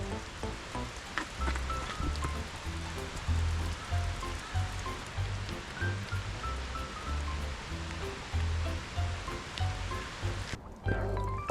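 Heavy downpour on a mountain trail above a winding river, a steady dense hiss of rain with rushing water beneath, continuous and close, cutting out abruptly near the end.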